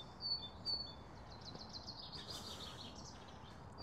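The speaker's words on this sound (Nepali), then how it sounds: "कस्तो मजाले चरा कराउँछ।" Birds calling outdoors near the sea, a few faint high chirps and tweets over a soft steady background, with no voices.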